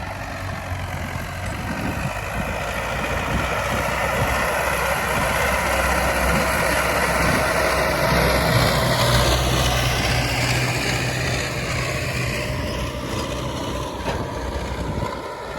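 A turbocharged D-65 diesel engine of a YuMZ tractor runs steadily at close range, a low continuous rumble with a droning tone that holds for the whole stretch without pause.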